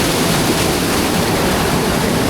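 Water rushing and falling in a village water channel, a loud, steady, close roar of pouring water that fills the whole clip without pause.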